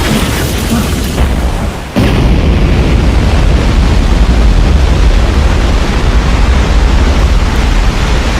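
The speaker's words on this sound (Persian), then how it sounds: "انفجار این موجود این مکان و موشک‌ها رو هم نابود میکنه." A huge explosion in the Resident Evil Dead Aim video game roars as a loud, sustained wall of rumbling blast noise, briefly dipping before surging back and continuing at full force.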